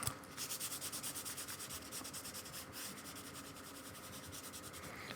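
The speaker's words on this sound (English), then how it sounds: "Just smoothing that with my finger." A fingertip rubs and smooths over an artwork surface in a quick, rhythmic back-and-forth, soft and close with a dry, scratchy texture, the strokes slowing and fading into a steady faint rub.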